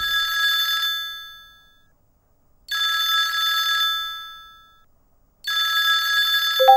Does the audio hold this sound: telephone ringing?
yes